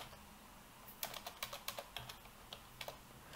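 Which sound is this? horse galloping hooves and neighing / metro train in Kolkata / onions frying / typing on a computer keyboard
typing on a computer keyboard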